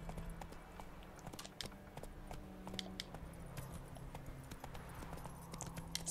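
Horse hooves clip-clop steadily in The Witcher 3: Wild Hunt, a quiet game scene, with sparse clicks and a faint low hum beneath the rhythmic steps.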